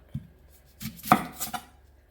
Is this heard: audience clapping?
no